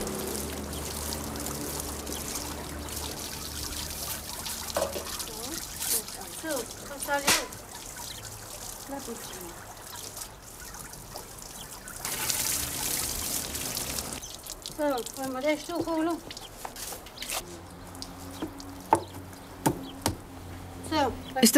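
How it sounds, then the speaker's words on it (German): Cold water drains out of a wooden tub, used in rural linen bleaching, as a steady pouring trickle with occasional knocks and drips. A narrating voice talks over it. "das kalte Wasser aus der Bütte ablaufen"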